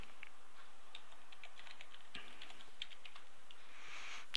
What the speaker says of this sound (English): once we've keyed in the password